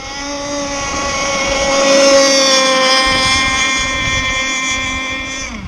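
A Zenoah 30cc gas engine drives a model boat, its buzzing, strongly tonal drone loud and close, holding steady with a slight rise and dip in pitch and no talk.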